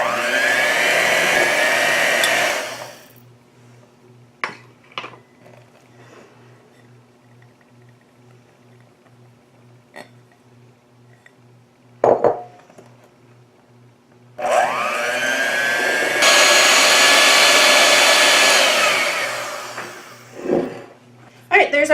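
An electric mixer whirs loudly, mixing flour into peanut butter cookie dough in two bursts of a few seconds each, with a quiet stretch of small knocks and clinks between them.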